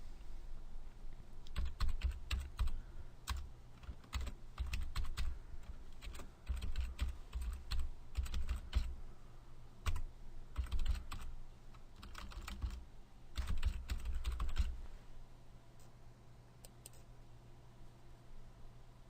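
Bursts of typing on a computer keyboard as a username and password go in at a login screen, rapid clicking keystrokes in clusters with short pauses, close and fairly quiet, fading out for the last few seconds.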